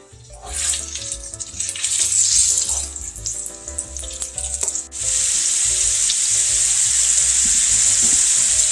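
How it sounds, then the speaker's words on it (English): Crumbled breakfast sausage browning in a pan makes a loud, close sizzle. Choppy scraping bursts at first settle into a steady, even hiss. "my sausage is browning very well"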